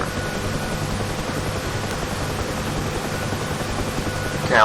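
A helicopter hovering in a flight simulator game, with a steady broadband rotor and engine whine held at even loudness, no talk, and a brief squeaky sound at the very end.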